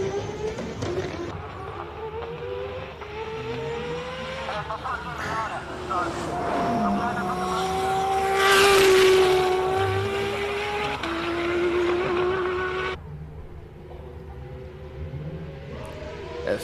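A race car climbs the Simola hill climb course, its engine whining up and down through gear changes while a commentator talks over it.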